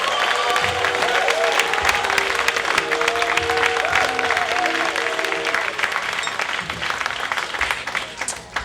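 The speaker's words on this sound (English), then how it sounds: "Let's give Tracy a big round of applause." Dense, sustained applause from a storytelling slam audience in Los Angeles, a steady roar of many hands with some cheering and crowd voices, fading slightly toward the end.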